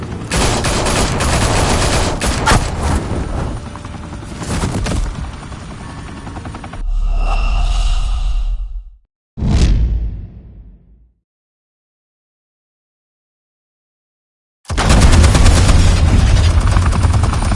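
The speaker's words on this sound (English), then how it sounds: "Open fire!" Heavy gunfire in a Batman video game, sustained bursts of automatic shots for several seconds, then a deep rumbling blast and a sharp hit, silence, and another loud burst of firing.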